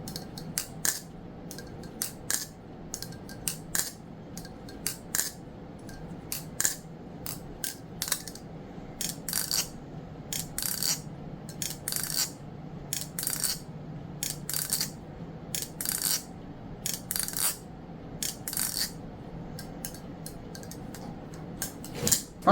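A Bxndxgeknives Stitch balisong being flipped, giving a steady run of sharp metallic clicks and clacks in quick irregular bursts, close and fairly clear over a low background hum.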